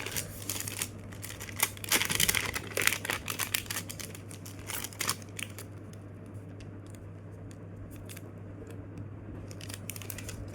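Paper being refolded for an origami jet: close crinkling and creasing rustles, busier in the first half, then quieter scattered handling sounds.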